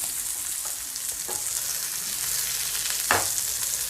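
Masala-coated sheela fish fries in oil with a steady, close sizzle, broken by a few soft scraping stirs and one sharper clatter near the end.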